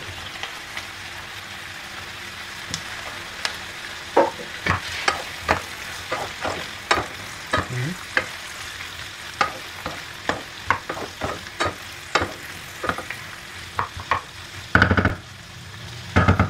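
Tomatoes and paprika stir-fry in a pan with chicken sweet and sour, a steady sizzle broken by repeated sharp scrapes and clacks of a utensil against the pan, close and without talk.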